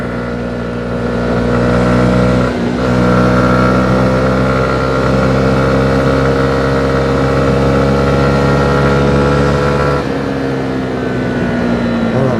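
A 2021 Honda CB125R motorcycle engine revs steadily while riding on a road, a loud, sustained buzzing drone that holds high and varies slightly in pitch, with a short dip midway and another near the end.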